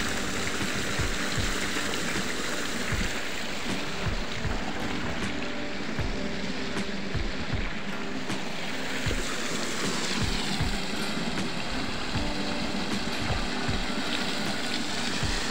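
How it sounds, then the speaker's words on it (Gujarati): Irrigation water, driven by a motor pump, runs steadily across a chickpea field in a continuous loud rushing wash, with soft, regular low thumps throughout. "સાથે સાથે ચણામાં પાણી ચાલે છે"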